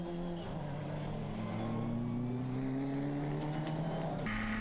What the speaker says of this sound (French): une des 10 SP05 à moteur Peugeot 4 cylindres turbo de 250 chevaux engagés